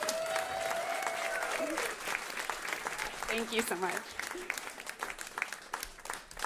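An audience at a regenerative agriculture event applauds as a speaker leaves the stage, with steady clapping throughout while voices talk over it near the microphone.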